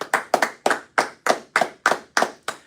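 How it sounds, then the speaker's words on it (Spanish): A small audience claps in a slow, regular rhythm of about nine sharp, distinct claps at a church welcome for a visiting pastor, fairly close and with no voices over it. "Un aplauso, por favor."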